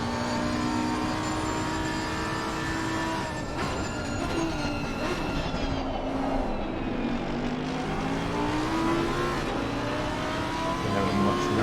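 A Lamborghini race car in Assetto Corsa Competizione at Kyalami, heard from onboard: a steady, loud engine whine rises and falls through the gears, with rival cars droning close by.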